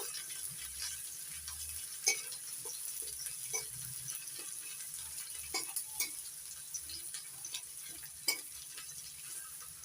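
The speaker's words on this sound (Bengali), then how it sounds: "এবার দিয়ে দিচ্ছি পেঁয়াজ কুচি পেঁয়াজটা একটু লাল লাল করে ভেজে নেব" Chopped onion frying in a pan after cumin seeds, a steady soft sizzle with occasional scraping stirs and light clinks, close and alone without any talking.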